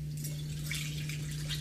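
Dirty turpentine pours through a funnel into a jar in a painting studio, a steady soft trickle of liquid over a low constant hum.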